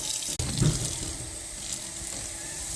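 Hot water pours from a tap into a sink with a steady, hissing splash that holds at an even level after a brief knock at the start.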